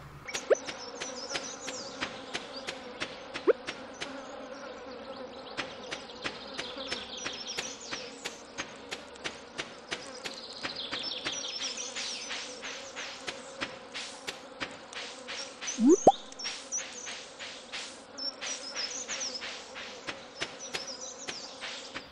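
Bees buzz in the video game Stardew Valley as a soft, continuous insect drone, broken by a steady run of regular light clicking ticks, with no voices.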